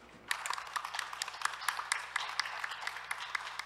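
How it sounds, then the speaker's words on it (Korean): An audience at the close of a shipping and ports panel discussion at the World Ocean Forum applauds steadily, with many hands clapping in a dense, even wash that carries on without a break. "큰 박수"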